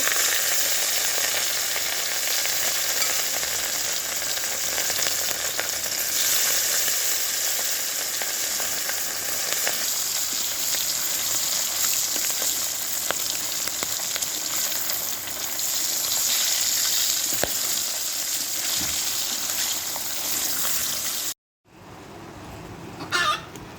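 Mustard oil sizzles in a pan on an outdoor village cooking setup, a steady loud frying hiss that runs continuously, then briefly cuts out near the end before resuming more quietly.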